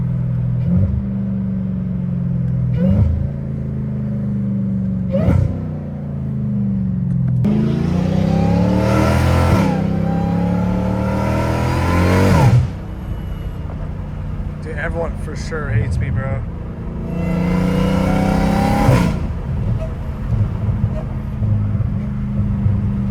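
Straight-piped, catless Dodge Hellcat Redeye with a supercharged engine, heard from inside the car as it revs and accelerates in several loud surging pulls, with rising tones and a clear whine, while someone talks over it.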